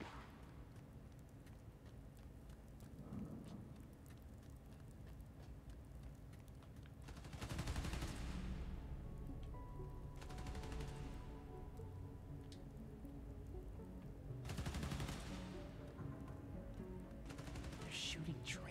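Gunfire in the video game Spider-Man: Miles Morales: bursts of shots break out around the middle of the clip and again toward the end, over steady game background noise.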